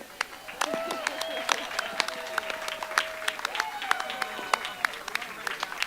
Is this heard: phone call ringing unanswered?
no